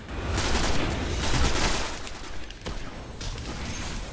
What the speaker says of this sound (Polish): Dwa strzały z shotguna dostał.